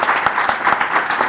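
Audience at a Startup Grind Barcelona talk clapping for the speaker, a short burst of dense, steady applause from a crowd, fairly close.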